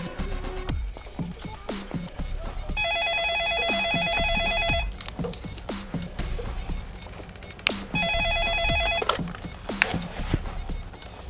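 A telephone ring pattern, placed just before a kidnapper's ransom call, sounds as two bursts of electronic tones over a busy, loud film soundtrack full of other sounds.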